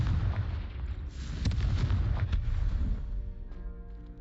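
Blasts from the Confringo spell in Hogwarts Legacy rumble through a video game scene, a dense burst of booming explosions with crackling impacts that gradually fade, heard alone without voices.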